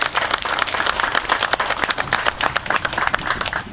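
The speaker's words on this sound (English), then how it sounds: "So let's give them a real round of applause." An audience at an Amish Country tractor cruise event claps in a dense, steady patter of many hands, fairly close and loud, continuing without pause.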